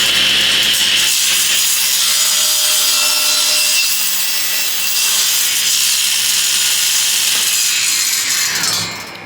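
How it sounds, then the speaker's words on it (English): A table saw on a sled cutting through padauk hardwood, a loud, steady high-pitched whine of the blade biting wood for several seconds before the cut finishes and the sound drops away. "What is this piece of wood you're cutting?"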